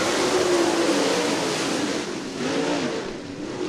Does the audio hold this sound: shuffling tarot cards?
no